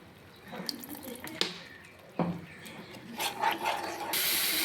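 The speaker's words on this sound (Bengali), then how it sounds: "এর মধ্যে আমি হালকা একটু জল দিয়ে দিব যাতে মশলাটা পুড়ে না যায়।" Water runs and splashes briefly as a little is added to masala frying for an egg curry, with scattered clinks and a louder gush near the end, soft and close.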